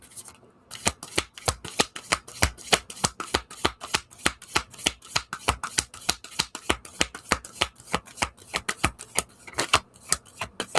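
A tarot deck is shuffled briskly and near. Each pass gives a crisp riffling burst, and the bursts repeat in a fast, steady rhythm for about ten seconds with no talking.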